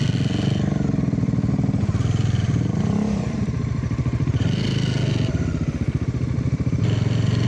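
A motorcycle rides downhill over a rough road near a Tarlac ecotourism park in Central Luzon. The engine drones steadily and loudly throughout, with clattering and thumps from the bumpy surface.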